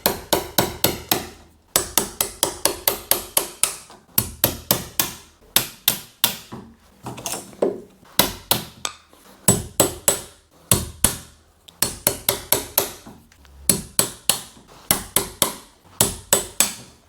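A hammer strikes a chisel paring out wood for a door latch, giving crisp, sharp taps in quick bursts of several blows separated by short pauses, close and loud throughout.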